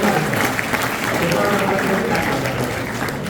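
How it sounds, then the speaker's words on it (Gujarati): A school audience applauds in a dense, steady wash of clapping that stays loud and even throughout, with a voice speaking over it. "જોરદાર તાળી છે"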